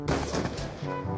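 Gunfire in Black Ops 2: a dense burst of shots opens loudly and keeps firing across the moment, with a rapid, continuous rattle and no talking.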